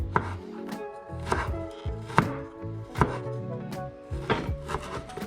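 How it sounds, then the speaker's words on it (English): A knife slicing ginger finely on a wooden chopping board, steady rhythmic knocks close up and alone, with no talk. "then you want to slice finely"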